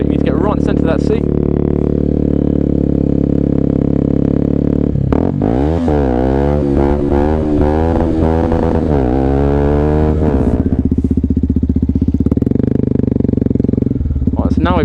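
A 125cc motorcycle revs while popping a wheelie: a steady engine drone, then a stretch of rapidly rising and falling revs, then a settled drone again, loud and close throughout.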